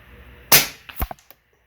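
A single sharp shot from an Avenger .25 air rifle firing an H&N 28-grain slug, a crisp crack followed by a few quick fainter clicks and the distant tick of impact.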